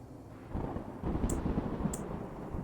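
Dust storm in the survival game Skyformer, a steady low roaring rumble of wind that swells and grows denser after the first half-second, with a couple of faint high chirps over it.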